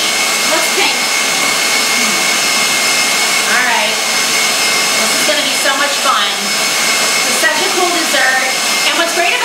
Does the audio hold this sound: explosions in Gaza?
no